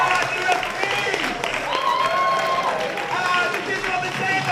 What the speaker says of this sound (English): get a massive round of applause for all of the volunteers, the platform crew